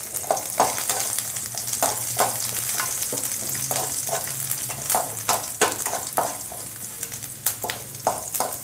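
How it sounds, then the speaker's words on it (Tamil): Curry leaves and crushed garlic sauté in hot oil in a pan for a banana flower poriyal, giving a steady close sizzle broken by regular scraping stirs of a spoon against the pan, with no talking. "கருவேப்பிலை போட்டு வதங்கினதும் ஒரு நாலஞ்சு பல் பூண்டு வந்து நல்லா இடித்து போட்டுக்கலாங்க."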